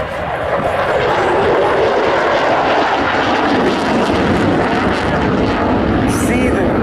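Boeing F/A-18 Super Hornet jet making a low flyby with afterburners lit at the Jones Beach air show, a loud, sustained roaring wash of engine noise that fills the whole stretch without letup.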